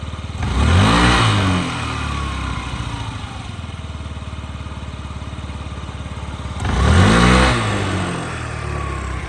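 A Yamaha Jog SA55 fuel-injected scooter engine idles with a buzzing putter, revving up twice in loud sweeping surges before settling back, close and continuous.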